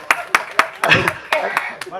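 An audience at a film press meet claps in a few short bursts of scattered hand claps, close and sharp, mixed with a speaking voice.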